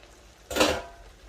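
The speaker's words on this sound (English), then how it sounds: "So put your spaghetti, place it all into the pan, like so." Spaghetti placed into a pan lands with a single brief clattering rustle, close and fairly loud against quiet kitchen background.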